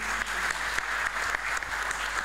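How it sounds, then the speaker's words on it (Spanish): Steady, dense audience applause fills the room at the opening of an international teachers' congress, even and unbroken throughout with no voices on top. "Un aplauso, por favor"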